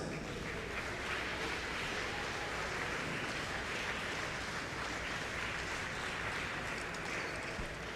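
Applause greets the Texas Tyrants, medalists at an NVA Cup volleyball awards ceremony, a steady, fairly distant patter of clapping from a crowd that stays even throughout.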